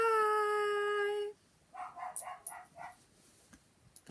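A dog gives one long, clear tonal howl, then breaks into a quick run of sharp, close barks and yips in quiet surroundings.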